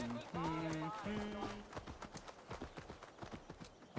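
Horse hooves clip-clopping at a slow pace through a city in the game Assassin's Creed Valhalla, a steady rhythmic trot under a voice and some music notes at the start.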